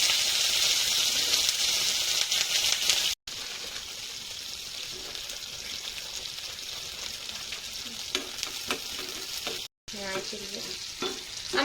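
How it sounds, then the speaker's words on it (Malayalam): A pot of payasam, a thickened sweet milk pudding, bubbles and simmers while being stirred, producing a continuous dense hiss and wet burbling with occasional scraping, steady and close throughout with two brief gaps. "പായസം ഏകദേശം കുറുകി വന്ന ഒരവസ്ഥയിലാണ് തിളച്ചുകൊണ്ടിരിക്കുകയാണ്"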